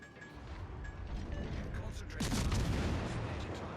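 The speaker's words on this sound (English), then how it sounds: "when a cruiser gets spotted, battleships like to stop what they're doing and shoot you" Battleship guns fire in a naval combat video game, a heavy boom bursting in midway through over continuous rumbling engine and ambient battle noise.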